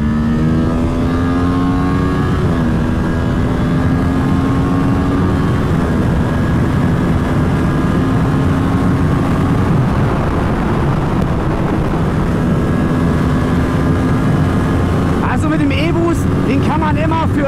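A Kawasaki Ninja 7 Hybrid motorcycle engine revs up in rising pitch sweeps with electric boost, shifting and climbing again, loud and close, with a brief burst of talk near the end.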